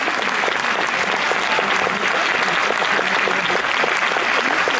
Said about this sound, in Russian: Аплодируем, господа.